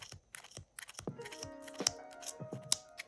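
Scissors snip through the thick wrapped yarn of a crochet bunny cottontail appliqué, a quick run of close, crisp cuts and fibrous crunches over about three seconds.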